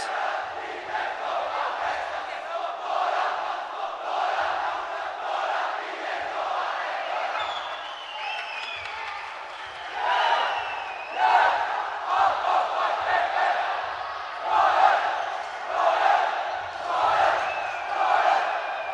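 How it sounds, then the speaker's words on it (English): Crowd of schoolboy supporters on the sidelines of a Royal versus St. Thomas's basketball encounter chants and cheers continuously, a loud rhythmic roar with rising shouts toward the end. "can see the Thomian crowd on the sidelines cheering for the lads in blue, black and blue"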